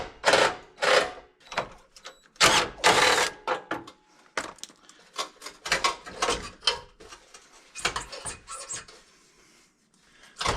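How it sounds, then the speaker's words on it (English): Metallic ratcheting and clicking from a wrench removing bolts on a 2002 EuroVan front bumper come in irregular close bursts, with short quiet gaps between. "Let's take those 2 bolts off and see what happens next."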